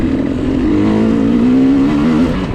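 KTM 300 two-stroke dirt bike racing a hare scramble, its engine droning loud and close at steady high revs with a slowly rising and falling pitch, no talk over it.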